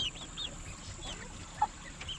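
A backyard flock of Cream Legbar and Cochin chickens with a rooster clucks softly nearby, scattered calls over a faint steady background hum.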